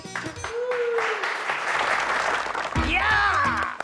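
A comedy sketch audience breaks into a short burst of clapping, with spoken voices at the start and end and over the applause.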